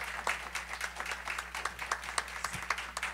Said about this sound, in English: And Ramakrishna Garu, please give him a big round of applause